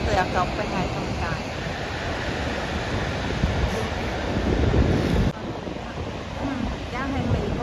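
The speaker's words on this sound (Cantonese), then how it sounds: "而家喺美國嗰邊睇瀑布" A constant heavy rushing roar comes from Niagara Falls on the American side in winter, with ice visible in the water, as wind noise gusts over the microphone; the level dips briefly partway through.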